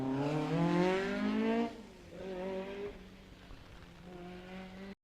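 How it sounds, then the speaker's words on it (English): Ford Escort rally car on the Mull Rally roaring past, engine note rising loudly then dropping as it passes and fades, with a gear change and revs continuing in the distance. "Sounds like an Escort, car 87."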